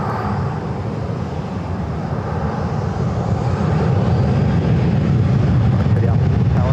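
A Delta jet taking off from a runway at Los Angeles International Airport, its engines producing a loud, steady broadband roar that swells gradually and holds through the whole stretch, with no voices over it.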